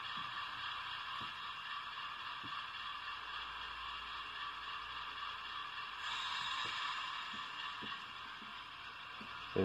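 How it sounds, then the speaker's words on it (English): An ESU LokSound 5 decoder in an Atlas Dash 8-40B model locomotive plays its independent brake sound, a steady airy hiss with faint mechanical clicks that swells slightly partway through, heard close with no talking. "F10 is the independent brake. Shift 0, F0, there's the independent brake."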